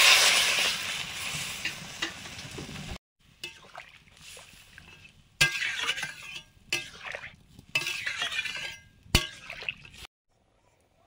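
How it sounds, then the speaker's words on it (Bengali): Water poured into a pan of yam frying with spices, loud sizzling and stirring in bursts broken by short pauses, with occasional utensil clinks close by. "এবারে পরিমাণ মতো জল দিয়ে দেবো।"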